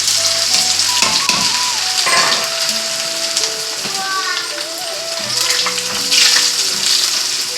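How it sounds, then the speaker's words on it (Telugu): Cornflakes fry in hot oil with a continuous crackling sizzle, close and fairly loud, while a voice talks over it and someone speaks in the background. "ఇందులోకి కాన్ఫ్లెక్స్ వేపుకుందామని నూనె పెట్టుకున్నాను"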